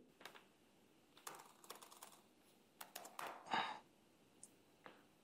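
Quiet keystrokes on a computer keyboard as a git command is typed on a Windows 11 machine, coming in short scattered bursts of clicks with pauses between them and no talking.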